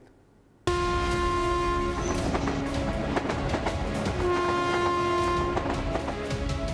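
A Mumbai suburban local train rumbles past close by after a quiet start, with rhythmic wheel clatter and a sustained horn-like tone sounding twice.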